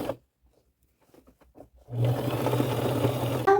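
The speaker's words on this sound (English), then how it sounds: "I'm going to sew it right along that raw edge" A sewing machine stitching burgundy gimp trim onto fabric starts after a quiet pause of faint handling noises, then runs in a loud, steady, close mechanical whir to the end.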